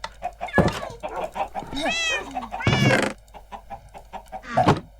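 Several short meows from Minecraft cats ring out close and clear amid clicks and background game sounds, with a voice chiming in briefly.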